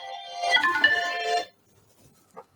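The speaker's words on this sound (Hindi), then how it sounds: "सॉरी आज हम साइलेंट पे करना भूल गए फोन को।" A mobile phone ringtone plays loudly for about a second and a half in a quiet room, then cuts off, followed by a faint brief blip.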